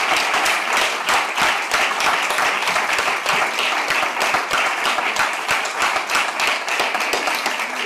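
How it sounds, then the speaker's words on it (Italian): Conference audience of young people from many schools applauding, dense steady clapping that stays loud and continuous for several seconds. "facciamo tutti un applauso."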